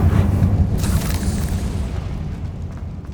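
A loud, deep booming spell blast from the Hogwarts Legacy video game, a rumbling explosive roar that fills the opening and slowly fades with crackling debris.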